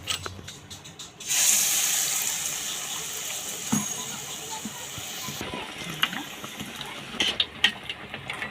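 Batter-dipped jackfruit seed chops drop into very hot oil in a wok, setting off a sudden loud, steady hiss of frying that carries on continuously, with a few clinks and knocks of utensils near the end.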